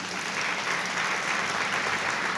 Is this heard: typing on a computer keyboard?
no